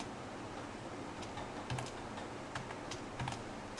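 Computer keyboard keys clicking as HTML code is typed, with scattered taps and short bursts at a steady moderate pace over a quiet background hiss, close by and fairly soft.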